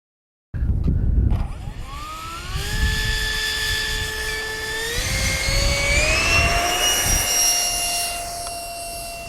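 A 70mm EDF model jet of the XB-70 Valkyrie flies past, its ducted fan a loud, steady high-pitched whine that rises and shifts in pitch as the throttle changes, with no voices over it.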